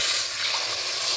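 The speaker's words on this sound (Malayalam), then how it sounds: "നമുക്ക് വെള്ളം ഒഴിക്കാം." Water poured into a pan of frying fish sets off a loud, steady hiss and sizzle that fills the whole moment without a break, with no voices.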